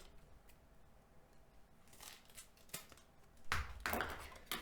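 Tape being pulled and snipped with scissors while preparing a cup glider, quiet close rustles followed by a few short cutting sounds near the end.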